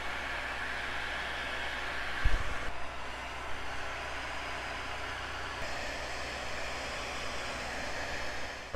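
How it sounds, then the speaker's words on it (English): Heat gun shrinking heat shrink tubing over wiring during a Mazda CX-3 amp and subwoofer install, a steady airy blower roar with a low hum, continuous and moderately quiet, one brief thump near the middle. "We're gonna put our heat shrink over it and shrink it down with the heat gun."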